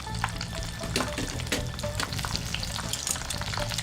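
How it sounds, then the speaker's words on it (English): Jumbo prawns deep-frying in hot oil as more oil is ladled over them, giving a steady close crackling sizzle with scattered sharp pops and bubbling throughout, no voices. "Continue to ladle on the hot oil."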